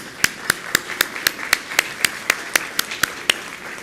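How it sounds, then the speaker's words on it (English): An audience claps at a community awards breakfast in West Bloomfield, Michigan. The claps come as a steady, evenly spaced run of about a dozen distinct, fairly close beats, with no talking. "We're going to clap."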